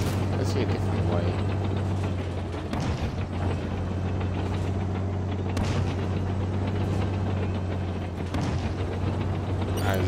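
Heavy booming cannon fire from tanks in Halo 5 on Xbox, a few deep blasts spread over a constant low engine rumble, loud and close, with a player talking over it.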